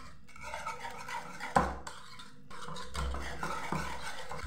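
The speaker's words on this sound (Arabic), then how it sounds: "مارغرين. نحرك مليح الخليط ديالي،" A spoon stirs a coconut dessert mixture with margarine in a bowl, soft scraping and occasional clinks against the dish, fairly quiet and close with no talking.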